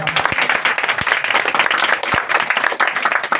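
A worship congregation claps to honor God, a lively, loud round of applause from many hands with sharp, irregular claps running throughout, close by and without speech.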